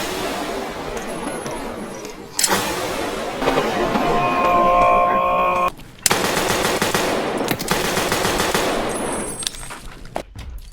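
Rapid automatic gunfire from a weapon in the video game Escape from Tarkov, loud and close, in long sustained bursts broken by short pauses, with bright metallic clatter and sharp transients over dense mid-range noise.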